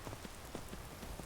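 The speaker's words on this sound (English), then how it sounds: "At least this time it's raining." Steady, soft rain patters and hisses across the ground in a video game, a faint, even wash with scattered droplet taps and no voices.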